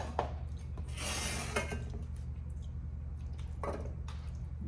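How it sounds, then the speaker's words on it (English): Moist stew of meat, carrot and potato from a Mongolian prison ration slides out into a frying pan with soft wet squelches and a light clatter against the pan, close but fairly quiet. "So I'm gonna spill it all out into the frying pan."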